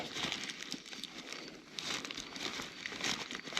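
Plastic bag being tugged and worked off a carabiner while out fishing, continuous close crinkling and rustling throughout.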